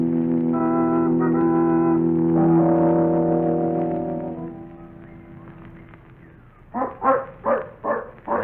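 A dog barks several times in quick succession in an old radio drama, following a stretch of sustained dramatic music that fades out before the close, loud barks.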